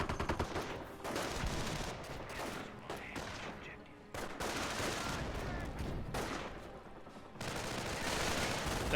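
Sustained machine gun fire in Company of Heroes, a World War II strategy game, with dense, continuous bursts of rapid shots and two short pauses, heard as a distant, moderately quiet battlefield roar.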